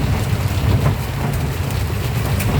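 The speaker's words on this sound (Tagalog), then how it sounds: "Grabe naman tong ulan na to" Heavy typhoon rain from Typhoon Carina pours down in a dense, steady roar with no break and no voices over it.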